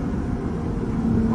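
A Lexus IS350 with a loud exhaust pulls hard through second gear at night, giving a steady, close, rumbling drone that swells slightly louder toward the end.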